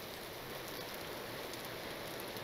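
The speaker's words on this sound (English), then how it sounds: "Because it's raining." Steady rain falling outdoors in a medieval survival video game, a soft, even hiss of drops continuing without a break at a moderate distance.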